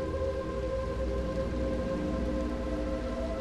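Heavy rain falls in the video game Little Nightmares II, a loud, constant wash of pattering drops with a low rumbling undertone, alone and unbroken.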